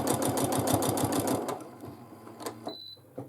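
A sewing machine runs in a quick rhythmic burst while free-motion quilting feather shapes, then stops, leaving a few faint clicks and a short high beep.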